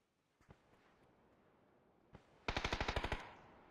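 MG3 machine gun in a battle royale video game: a couple of isolated distant shots, then a close loud rapid burst of about ten rounds.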